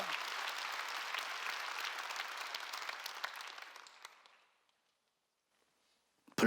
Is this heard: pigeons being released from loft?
no